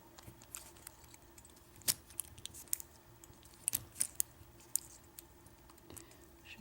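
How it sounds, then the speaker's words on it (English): Lock pick working the pins of a five-pin mortise cylinder lock, faint scattered clicks and scrapes at close range, irregular and quiet. "when you get past a pin, you can kind of feel it click past"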